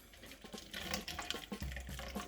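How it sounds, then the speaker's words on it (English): Hot cooking grease being poured into a plastic takeout container in a kitchen sink, heard as a faint splashing, gurgling trickle with short bursts and a dull thump near the end. "And I pour my grease in here like this."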